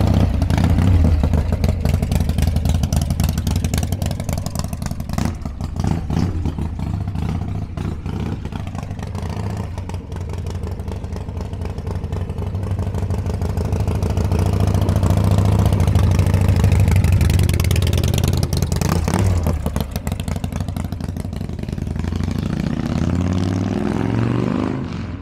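A motor engine runs steadily at idle for a long stretch, swelling into a louder rev midway before settling back, with some mechanical clatter throughout.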